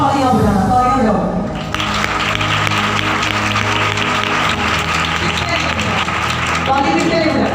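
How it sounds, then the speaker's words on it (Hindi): A church congregation at worship claps hands together in a dense, sustained burst of applause, loud and close, with voices and music carrying underneath. "उसके बाद तालियां बजाना।"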